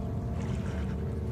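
Water splashes and sloshes steadily in the horror video game Outlast, a constant low, wet churning heard close with no talking over it.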